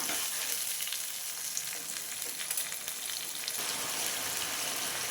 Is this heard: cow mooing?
no